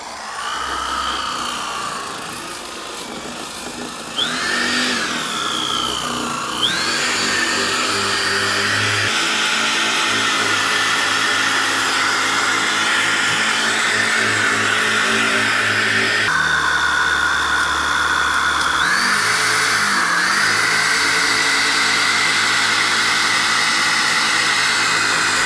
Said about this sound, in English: Now we're gonna 80 grit the Bondo off.